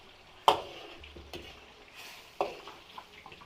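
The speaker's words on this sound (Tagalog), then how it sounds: "Hintayin na lang natin itong isdang matapos prito." Fish frying in a pan during home cooking gives a steady low sizzle, broken by a couple of sharp clinks and scrapes of a utensil against the pan, with no talking.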